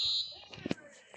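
A high, steady fire alarm tone sounds loud for a moment at the start and then cuts off, followed by some faint thumps and background murmur.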